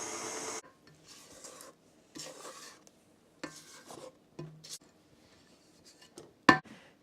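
Intermittent rubbing and scraping as a chocolate dessert mixture is stirred and a spatula scrapes down the sides of a mixing bowl, soft separated strokes ending in one sharper clatter.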